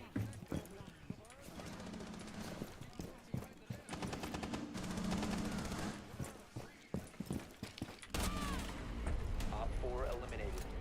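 Busy Rainbow Six Siege firefight with rapid gunfire bursts and clattering impacts, mixed with other game sounds and a voice throughout.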